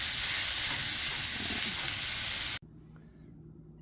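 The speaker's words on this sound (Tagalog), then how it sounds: "igigisa ko na po yung ground pork niya." Ground pork sautés in a pan for pancit palabok, a loud, dense, steady sizzle that cuts off abruptly near the end, leaving quiet room sound.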